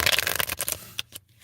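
A deck of tarot cards is shuffled close up, a dense riffling flutter that breaks into a few separate slaps and flicks before stopping, with no talking.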